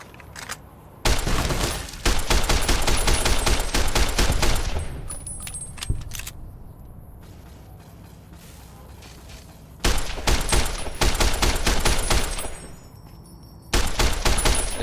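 Service rifle firing in Fallout New Vegas against a Lobotomite on Very Hard difficulty: loud bursts of rapid single shots in three separate volleys, with quieter game ambience and faint clinks in the pauses between.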